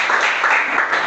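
An indoor audience at a discipleship training session claps in a brief, steady burst of applause, loud and close, with no voices standing out.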